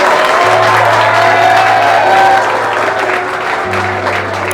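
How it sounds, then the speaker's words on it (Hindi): Students in a coaching class clap for a teacher arriving, a loud continuous wash of applause with a few cheers mixed in, and a steady low hum running underneath. "तालियां बजनी चाहिए भाई"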